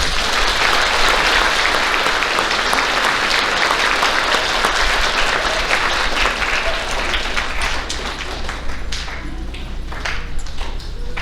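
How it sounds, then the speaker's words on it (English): Sustained audience applause for fifth grade award winners at an elementary school awards ceremony, steady dense clapping that thins slightly toward the end. "Let's give those 5th graders a round of applause."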